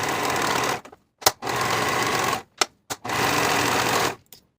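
Sewing machine running in three sustained bursts of stitching with short pauses between, finishing the side and bottom edges of a back pocket piece for high-waisted A-line shorts; close and steady, no talk.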